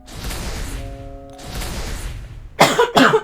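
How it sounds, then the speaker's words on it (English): Two sharp, close coughs near the end, following a stretch of quiet background sound with a faint tone, while playing the game Physical Exorcism. "Oh, I keep coughing."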